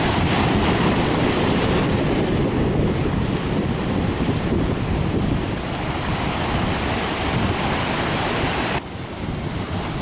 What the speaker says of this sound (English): Once in a while a pretty big wave, but kind of far between sets.